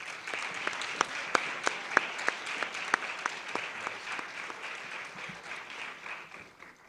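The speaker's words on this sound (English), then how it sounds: "Please join me in a round of applause to show our appreciation to all these individuals." At a 2021 high school honors convocation, an audience gives a round of applause, starting with a few sharp distinct claps and swelling into a steady patter before fading toward the end.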